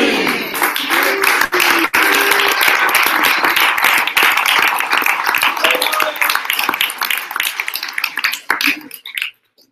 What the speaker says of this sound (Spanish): Vamos a recibir con un fuerte aplauso a...